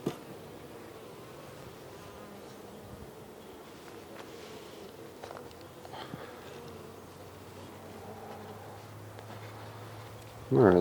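Honey bees humming faintly in a beehive top box, a low steady drone with light rustling and a brief louder bump near the end.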